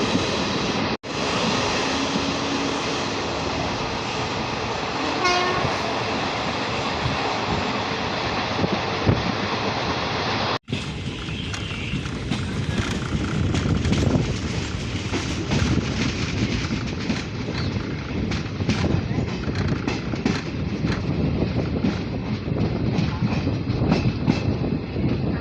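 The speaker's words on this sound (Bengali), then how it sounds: "আর ট্রেনটা এখন স্পিড বাড়াচ্ছে" The 16529 Karaikal Express passenger train runs from SMVT Bengaluru toward Hosur as it picks up speed, with a steady loud broadband rumble and clatter heard from on board. No one speaks over it.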